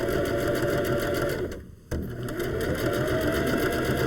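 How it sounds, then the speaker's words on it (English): A sewing machine runs a quarter-inch seam along the edge of sweater fabric, a close, steady, rapid stitching whir that briefly slows and pauses mid-way before resuming at full speed. "So I'm just gonna stitch right along that edge"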